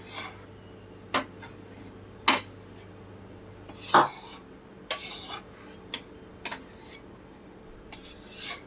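A spoon stirs roasted flour into sugar syrup in a pan while making Bombay halwa. Irregular metallic scrapes and clinks repeat every second or so, close and fairly distinct, with no talking.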